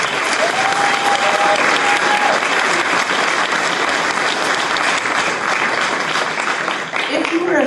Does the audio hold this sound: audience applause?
yes